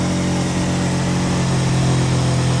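A single-rotor engine in a Mazda Miata idles with a steady, even drone and a low thrum, close and constant for a few seconds with no other sounds.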